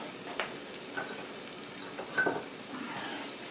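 Canned mushroom soup going into a pan of venison stroganoff, a soft steady sizzle with a few light scrapes and plops, close and fairly quiet.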